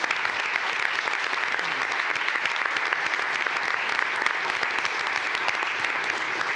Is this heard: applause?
yes